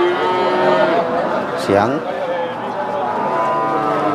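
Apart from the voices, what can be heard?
cattle mooing at a cattle market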